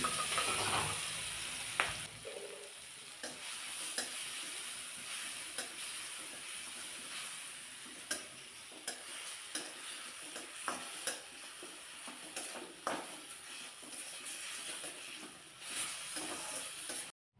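A paste of chili, cumin and garlic goes into hot oil with mustard seeds for a bottle gourd dish, and the oil keeps up a continuous loud sizzle, with scattered crackles, spattering pops and occasional clicks of a spoon.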